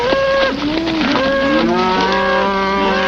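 Several cattle moo in overlapping, drawn-out calls, loud and close, one lowing after another with no talk.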